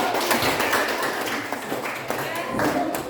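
Classroom of students applauding after a presentation, a dense patter of clapping with thumps and taps, fairly close and steady throughout, with some voices mixed in.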